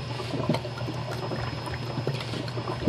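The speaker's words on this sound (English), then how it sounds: "All the water comes to our sink" Water gurgles and bubbles steadily up out of a sink drain in a low-income apartment in Montreal, backflow from an upstairs neighbour's washing machine, a constant churning wash with small splashes.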